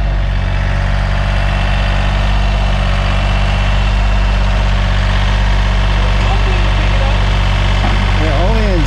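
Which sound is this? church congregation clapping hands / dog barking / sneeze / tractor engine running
tractor engine running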